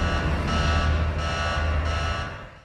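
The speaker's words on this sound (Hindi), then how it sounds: "अचानक स्टेशन पर अलार्म बज उठता है।" A space station alarm sounds as a loud, steady electronic tone with a few pulsing swells across its length, heard alone without talk and fading slightly at the end.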